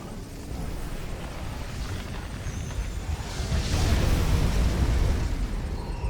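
A deep, rumbling ion cannon blast in Command & Conquer 3 swells and lingers, building to a heavy booming peak midway before slowly fading, with no talking.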